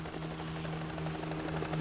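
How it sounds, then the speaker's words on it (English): A nearby helicopter in Steins;Gate 0, a steady throbbing rotor drone with a low engine hum, continuous and fairly close without any talk. "She could hear a helicopter. It was close."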